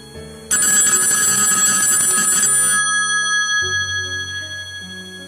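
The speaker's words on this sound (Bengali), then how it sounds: "মাথা থেকে আজে বাজে চিন্তা ঝেড়ে ফেলে মল্লিকাকে শেষ পর্যন্ত ফোনটা করেই ফেললাম" A telephone rings loudly with a bright, rapid bell trill for about two seconds, then its tone fades out over a sustained low hum, heard up close with no voices.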